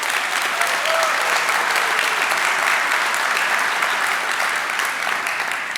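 Keynote audience at a tech conference applauds steadily, a dense wash of many hands clapping with no one speaking over it.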